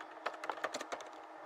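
Rapid typing on a computer keyboard, a quick irregular run of sharp clicks close by, loudest in the first second and then thinning out, with no voices.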